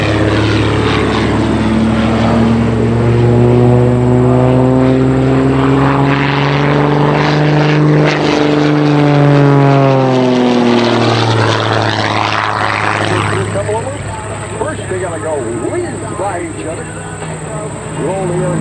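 A propeller aerobatic airplane performing at an air show, its loud engine drone sweeping up and down in pitch as it maneuvers close by, then fading as it pulls away, with a faint high insect-like whine behind.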